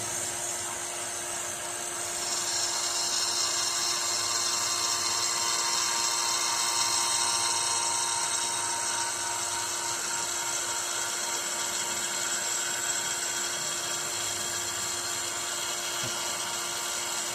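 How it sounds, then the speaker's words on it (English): A vacuum pump draws brake fluid through a hose from the bleeder valve into a jar on a 2008 Ford F-250's rear brakes, giving a steady, close, high-pitched whine that holds nearly unchanged throughout. "I have my vacuum pump running to my peanut butter jar with another hose going to my bleeder valve"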